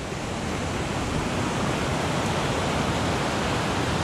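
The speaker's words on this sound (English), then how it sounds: "A creek going on." A creek flowing through the Alaskan woods, heard as a constant, loud, hissing wash of water, close and even from start to finish, with no one speaking.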